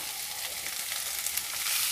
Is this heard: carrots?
yes